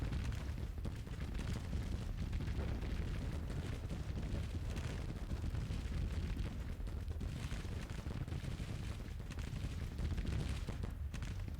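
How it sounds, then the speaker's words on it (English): Artillery booms and skirmisher musket fire fill a Civil War video game battle, a continuous low rumbling din of distant shots and blasts with no clear pauses. "their skirmishers are shooting at artillery"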